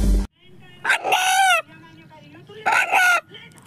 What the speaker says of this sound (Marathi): अण्णा या नावाने हाक मारणारा कोंबडा पाहिला आहे का?